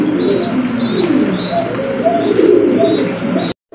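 Domestic pigeons coo repeatedly in soft, rounded calls while feeding two chicks, heard close and steady over a low background murmur, then cutting off abruptly.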